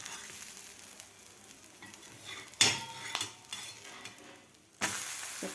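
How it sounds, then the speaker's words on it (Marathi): A bajra thalipeeth frying on a griddle is flipped, giving a sharp scrape and clatter of a spatula against the pan over a quiet sizzle, followed by a second louder burst of frying, close and without talk. "आता आपण पलटी करून घेऊया"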